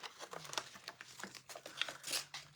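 Scissors snip through a sticker sheet of cute lamb and goose designs, giving a string of close, crisp cutting and crinkling sounds in an irregular rhythm, with no talk.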